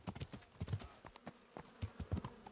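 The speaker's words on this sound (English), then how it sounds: "I was not expecting my horse to just show up here." Horse hooves clip-clop in a steady, uneven gait across the medieval world of Kingdom Come: Deliverance, the hoofbeats close and distinct with a brief whinny-like texture mixed in.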